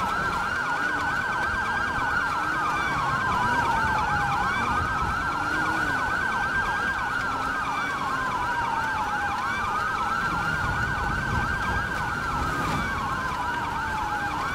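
Police sirens in GTA 5 wail continuously, steady rising and falling tones over a constant background rumble, with no talk.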